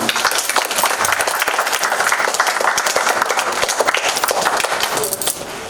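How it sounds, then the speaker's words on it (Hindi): An audience at a formal stage event with a chief guest breaks into continuous, close, fairly loud applause with the occasional cheer, holding steady throughout before easing slightly at the very end. "अपनी परंपराओं के निर्वहन में तालियों की कंजूसी ना करें।"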